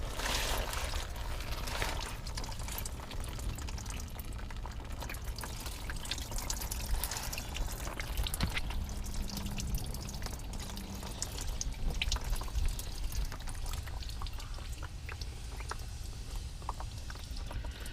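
Water drains and drips from a disconnected oil cooler line on a Ford Crown Victoria, a continuous trickling splash with irregular drips, close by and steady throughout.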